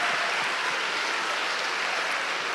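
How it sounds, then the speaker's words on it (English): An audience claps steadily for students at a family event, a dense, even wash of applause at moderate volume with no pauses and no voices standing out. "If you can just all give a big round of applause to all the students who have participated."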